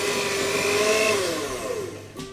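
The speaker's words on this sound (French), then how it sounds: "Et donc on continue encore une bonne minute à fouetter, c'est long." An electric mixer whisks cupcake frosting for Halloween cupcakes, a loud, close, steady motor whir whose pitch shifts slightly before it winds down near the end.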